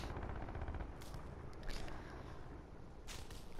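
Gunfire in Call of Duty Black Ops 4, with a few sharp cracks and short bursts spaced through a steady, noisy game backdrop, fairly faint and somewhat distant.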